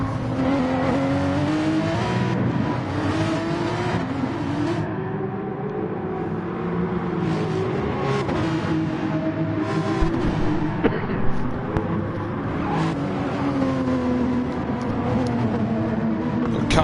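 A Lexus and a Porsche race cars blast down a straight in Gran Turismo Sport Group 3 racing in Germany, their engines droning loudly and continuously with rising and falling pitch as they shift gears, with a commentator talking over them.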